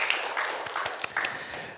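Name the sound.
congregation applause in church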